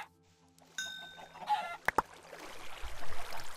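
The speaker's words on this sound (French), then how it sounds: "on continue à tuer du poulet." Chickens in the video game Minecraft give a couple of short, sharp clucks and squawks, with game sound effects before them and a soft rumbling background after.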